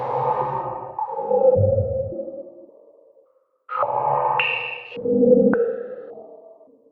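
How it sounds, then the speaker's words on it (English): A vocal sent through a clean resonant filter with resonance fully raised, centred at 500 Hz and given slight modulation, sounding as two loud, hollow, ringing phrases with a gap between them and tails that fade out. "clean filter type, resonance all the way up, 500 Hertz, and just add the slightest bit of modulation"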